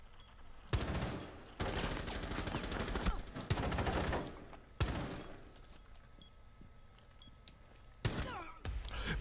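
Bursts of automatic gunfire in Rainbow Six Siege, several loud rapid volleys close by separated by short pauses, ending with a final sharp burst, with no speech over them.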